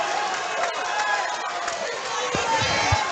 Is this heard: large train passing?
no